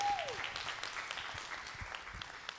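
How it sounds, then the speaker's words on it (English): Church congregation clapping for a pastor as he closes, faint scattered applause in a large room, preceded by a brief descending tone. "Give Pastor Stefan a big clap as he closes."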